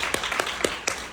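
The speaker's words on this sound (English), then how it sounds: "Y'all can clap for that." A handful of separate, sharp claps ring out at a leadership event, about four evenly spaced hits in roughly a second against a quiet room.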